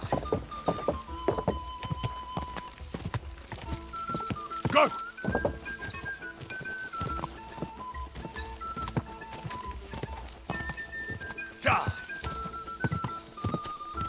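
Rhythmic clip-clop of horse hooves in the video game Kingdom Come: Deliverance 2, over a busy game soundtrack with steady tones and melody, the hoofbeats moderately loud and continuous throughout.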